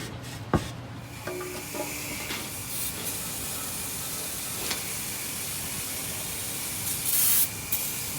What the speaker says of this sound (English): Good hose down with some brake clean and good old-fashioned air pressure.